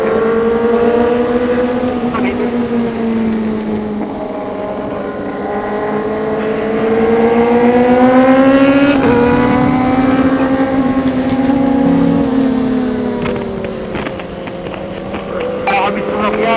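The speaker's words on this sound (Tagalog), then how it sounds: "Meron na motor." Sport motorcycles, including a GSXR 1000, ZX10R, CBR1000RR and MT09, climb an uphill road at Marilaque, engines droning loud and close with rising and falling revs over wind noise.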